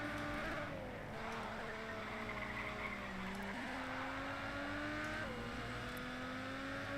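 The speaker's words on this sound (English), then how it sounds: "I can hear the NSX is right on my tail through that hairpin" A Honda NSX racing engine in the Race Driver GRID video game drones steadily throughout, its pitch sliding and climbing through a hairpin with several gear-change steps, loud and continuous with a second engine note layered close behind.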